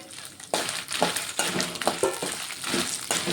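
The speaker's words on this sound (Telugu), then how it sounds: "ఇవి కూడా కొంచెం ఫ్రై చేసుకుంటున్నాను" Dry red chillies fry and crackle in hot oil in a pan, a steady close sizzle with stirring scrapes and small clinks of a utensil, no voices present.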